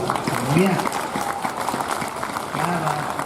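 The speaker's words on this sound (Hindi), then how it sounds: "अब देखना तालियां बजती कैसी" Audience applause at a Hindi poetry recital (kavi sammelan) rises in a steady patter of clapping while a voice speaks over it.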